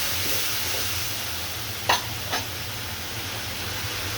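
Fish and onions frying in a pan, a steady close sizzle and hiss throughout with two brief scraping clicks near the middle, no voices.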